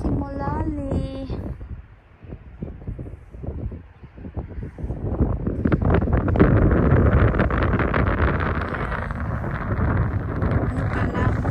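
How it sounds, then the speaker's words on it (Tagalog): Strong outdoor wind buffets the microphone in a long, rushing roar on a cloudy afternoon, with a voice speaking briefly at the start before the gusts swell and stay loud. "Mahangin, guys."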